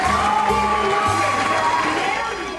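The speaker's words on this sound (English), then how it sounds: "A big round of applause for Rita Alexander." Crowd of families and children at a cooking demonstration event cheers and whoops, loud and dense, with a voice heard over the noise.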